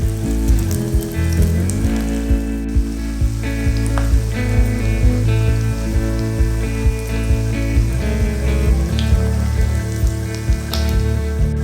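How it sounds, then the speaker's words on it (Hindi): Fish frying in a pan over a low flame gives a loud, continuous close sizzle, crackling and spitting steadily throughout with no talking. "तो चलिए ये साइड को हम लो फ्लेम में फ्राई कर लेते हैं।"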